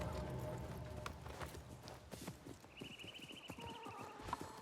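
Horse hooves clip-clop at a steady walking rhythm in the Assassin's Creed Mirage game world, mid-distance and moderately loud over ambient city bustle and a brief high tonal whistle.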